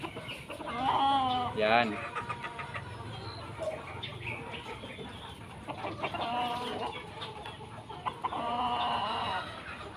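A Sweater gamefowl rooster from an AEJ gamefarm line, straight-combed, gives short bursts of clucking close by while someone talks over and between the calls.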